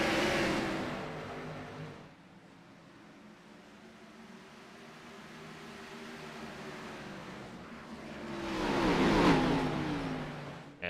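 Race cars in the iRacing Xfinity Series at Bristol accelerate at a restart, their engines building from a steady mid-distance drone into a louder roar that peaks near the end.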